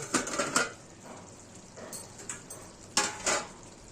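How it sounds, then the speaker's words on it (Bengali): A lid comes off a pot of simmering eel curry with a few light metallic clinks and clatters near the start and again later, faint and close, with no talk over it. "এবার আমরা ঢাকাটা খুলে একবার দেখে নেব।"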